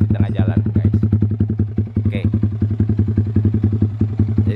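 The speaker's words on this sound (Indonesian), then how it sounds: "Ini bacot suara si knalpot Proliner ya, dari yang tipe short carbon" Yamaha R15 V3 fitted with a Proliner TR-1R carbon short exhaust without DB killer, idling loud and close with a fast, even pulsing burble and a brief blip partway through.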